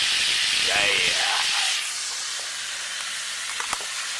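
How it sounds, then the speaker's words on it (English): Bacon sizzles and hisses loudly in a pan over a campfire at a base camp, a continuous frying crackle that eases slightly after the first two seconds, with brief voices under it. "That's the bacon sizzling."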